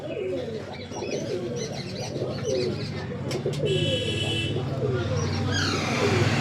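Long-bodied pigeons coo repeatedly in soft, rolling calls close by at a pigeon shop in Kolaghat, Purba Medinipur, layered over one another, with a brief buzzing tone partway through and a voice faintly present.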